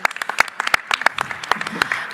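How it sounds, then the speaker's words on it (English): An audience at a conference session on local digital equity gives itself a round of applause, with sparse, distinct claps at close range in an uneven rhythm lasting about two seconds. "give yourselves a round of applause"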